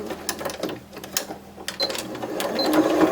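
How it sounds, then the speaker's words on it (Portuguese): A sewing machine stitches the ear of a fabric toy bunny in quick, uneven bursts of close mechanical whirring and clicking, with a short pause partway through. "vou costurar um pouquinho."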